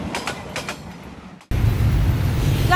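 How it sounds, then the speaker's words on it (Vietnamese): A train passing on the railway that runs through a Hanoi street where Khâm Thiên and Lê Duẩn streets cross. Faint rhythmic clatter gives way abruptly to a loud, close, steady rumble of the passing carriages. "nơi có tuyến đường sắt chạy ngang qua phố, là đoạn giao nhau giữa phố Khâm Thiên và Lê Duẩn."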